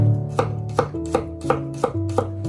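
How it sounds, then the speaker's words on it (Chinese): A kitchen knife slices garlic cloves into thin slices while a shrimp and scrambled egg dish is prepared; about seven crisp, evenly spaced chops ring out close and clear, with no talking. "给它切成蒜片"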